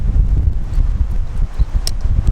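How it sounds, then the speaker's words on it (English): Strong wind buffets a microphone outdoors beside an R nineT Scrambler motorcycle, a loud continuous low rumble with gusty surges and brief rustles throughout. "it's really windy out here"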